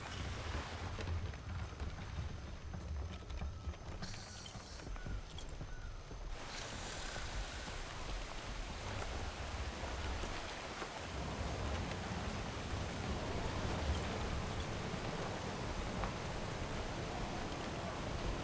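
Rain falls steadily in the pirate game Atlas, a dense, even hiss that continues throughout at a fairly quiet level, with a low rumble underneath.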